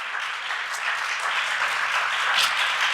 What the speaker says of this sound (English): Can we give another round of applause to our pioneer poets?